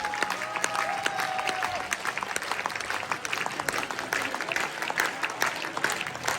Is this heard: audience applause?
yes